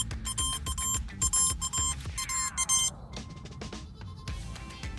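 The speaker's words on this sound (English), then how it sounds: "you can hear the collar going off" A Halo 3 dog collar's locator alert goes off close by as repeated electronic beeps in quick bursts, a sweeping tone partway through, over a low background rumble.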